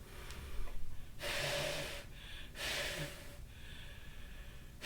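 A person blows hard through a cloth mask, making several loud, breathy bursts of air with short pauses between them and no speech.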